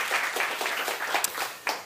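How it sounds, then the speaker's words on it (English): Seminar audience applauding a keynote speaker, a steady broad wash of many hands clapping that fills the short moment, with a few sharper claps standing out. "So a warm applaud."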